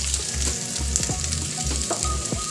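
Crushed ginger and garlic fry with onion in a pan for egg bhurji, giving a steady close sizzle with crackles and scraping stirs, over a low rhythmic hum pulsing in the background.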